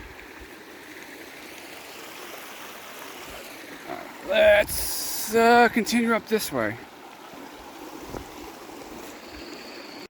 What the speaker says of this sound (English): we're along the Fall Brook.